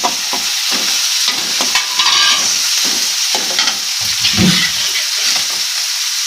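Chopped tomatoes going into onions frying in a pan for murmura uggani, with a loud, steady sizzle and repeated scraping stirs close by.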